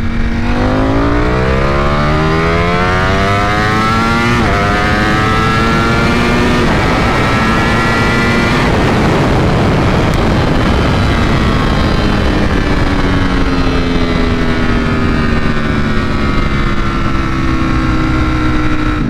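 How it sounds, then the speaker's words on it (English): A 2021 Ducati Panigale V4 SP with a BT Moto ECU flash pulls hard from 60 to 130, its engine note climbing steeply through the gears with sharp shift breaks, loud and continuous throughout. "All right, 60 through 130 Ducati V4 SP. Here we go."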